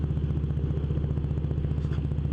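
Harley-Davidson Twin Cam 103 V-twin running in a rubber-mounted Road Glide Ultra touring motorcycle without counterbalancing, a close, loud, low, steady loping rumble with an even rapid pulse and mechanical clatter on top.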